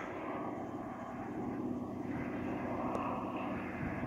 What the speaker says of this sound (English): what I can hear and what you can see here is Antonov II biplane